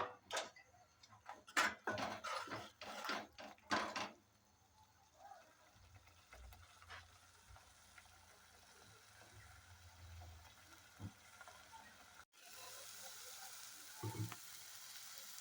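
Spices and masala for a paneer curry sauté in a pan, with a few sharp stirring clatters early on, then a steady crackling sizzle that briefly surges louder near the end.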